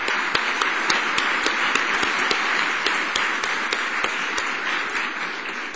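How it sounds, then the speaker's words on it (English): An audience at a panel event on the GRiD Compass laptop applauds steadily for about six seconds, a dense wash of claps with sharper individual slaps standing out, with no voices over it. "I would appreciate you just joining me with a little brief applause thanking them for their support of this."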